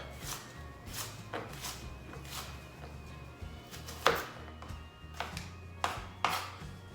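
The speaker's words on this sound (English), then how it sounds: "You'll need one white onion, and you just want to chop that up." A white onion is chopped with a knife on a board, giving a few sharp, irregular taps spaced over several seconds, close and moderately loud over a quiet kitchen background.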